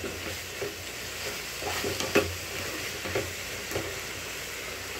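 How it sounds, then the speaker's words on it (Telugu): Rice frying in a pan as it is stirred, a continuous close hiss of sizzling oil with soft periodic scrapes from the stirring spoon, no voices. "ఇదేమో వేగుతుంది, కలుపుదాం ఒకసారి కలుపుదాం."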